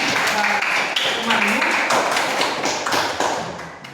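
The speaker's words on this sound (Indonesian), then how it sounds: "Mari kita berikan tepuk tangan." Students in a classroom giving a round of applause: a dense patter of hand claps lasting a few seconds and tapering off, with some voices mixed in.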